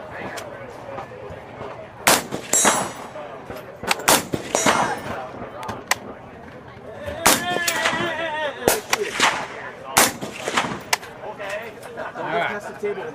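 A rifle fitted with a toolless adjustable gas block set fully closed fires a string of loud, sharp shots at an outdoor gun event, with metallic clangs and people talking between them.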